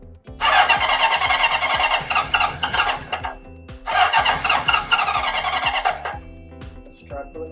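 A 1977 Honda CB750A Hondamatic motorcycle engine is cranked over by its starter in two long, loud, rhythmic churning bursts separated by a pause, without catching, then a few clicks.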